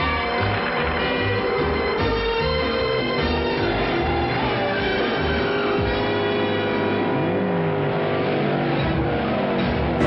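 Cars race on a track in a VW versus supercar contest, engines loud and continuous with revving, shifting pitch and passing drones throughout, no talk.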